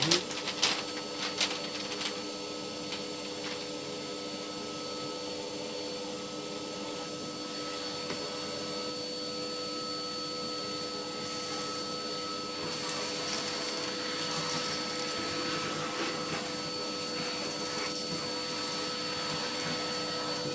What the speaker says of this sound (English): the hoover won't suck it up